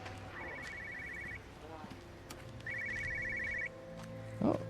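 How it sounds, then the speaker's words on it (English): A telephone rings in the video game Everybody's Gone to the Rapture, two bursts of electronic trilling separated by a pause, faint against a low ambient hum with a brief thump near the end. "I thought I heard I heard a phone coming from somewhere."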